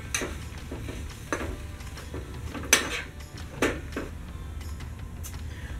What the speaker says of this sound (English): Stir your cabbage and potatoes.